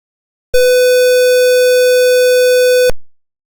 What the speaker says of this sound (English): The sound you heard is produced from this buzzer.